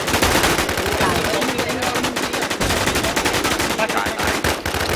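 Dense, loud automatic gunfire from the online shooter game Infestation, with rapid bursts of shots filling the whole stretch almost without a break.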